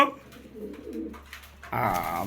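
Golla pigeons coo softly nearby in short rolling phrases, followed by a louder burst of cooing at the end, with faint background sound between.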